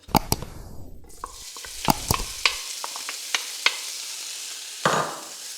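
Bacon frying in olive oil in a big pot, with a steady sizzle rising after a second of loud clattering and stirring, and sharp utensil knocks against the pot scattered throughout.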